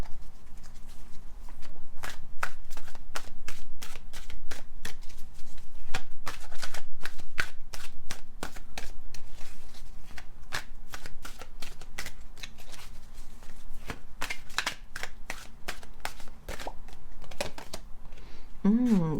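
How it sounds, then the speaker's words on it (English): Tarot cards shuffled steadily for about eighteen seconds, a dense run of sharp riffling snaps and slaps, close and fairly loud, with no one talking over it. "let's take out some more cards"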